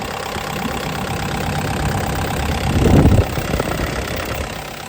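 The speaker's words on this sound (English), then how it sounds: "Very quiet little engine." A 2012 CAT 305E CR rubber-track mini excavator's 40 hp diesel engine idles with a steady low rumble and light knock, close and continuous, with a brief louder swell near the middle.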